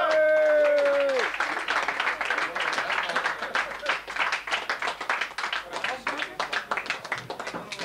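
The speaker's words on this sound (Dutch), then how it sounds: "Een applaus voor André de Winter." At a Dutch gathering, an audience claps for an honoured guest, a brief tonal sound at the start giving way to uneven, moderately close applause with voices mixed in throughout.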